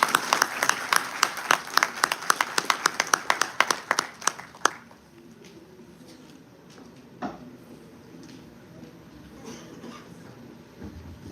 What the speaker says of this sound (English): Can we please have a warm round of applause